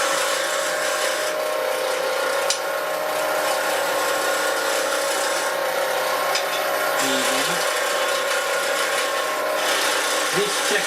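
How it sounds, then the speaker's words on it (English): A scraper shaving timber on a spinning lathe while making a pen, producing a continuous raspy scraping over the steady hum of the lathe motor, close and loud, with a few faint taps. "I then take my scraper and then very gently come up to the bearings"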